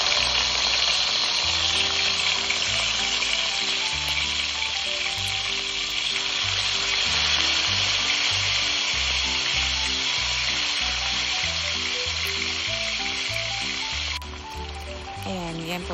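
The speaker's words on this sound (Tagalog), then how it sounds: "iprito po natin ito ng bahagya" Pork spare ribs sizzling as they fry in a pan, a steady loud crackle running throughout with background music and a voice speaking over it.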